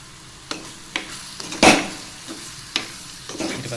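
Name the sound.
coconut milk added to tempered mushrooms, sizzling and stirring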